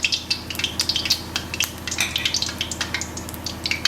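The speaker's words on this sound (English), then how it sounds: "It's been frying nicely." Scotch eggs frying in hot oil, a continuous crackling sizzle with bright irregular pops and a low steady hum beneath, close and unbroken.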